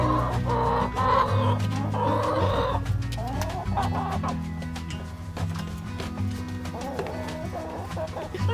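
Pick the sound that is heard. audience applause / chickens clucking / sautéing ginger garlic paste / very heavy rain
chickens clucking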